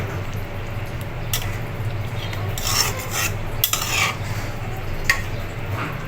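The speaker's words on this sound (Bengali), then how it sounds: "এবার নেড়ে মিশিয়ে নিব আস্তে আস্তে।" A spoon stirs fish curry in a pan, with the fish fried beforehand, giving soft scraping and a few sharp metallic clinks over a steady low background hum.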